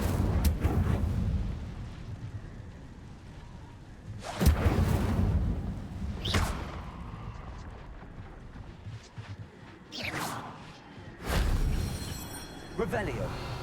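Incendio fire spells are cast in Hogwarts Legacy, each one a loud whooshing burst with a booming, crackling tail, several spaced bursts across the stretch amid quieter rumble.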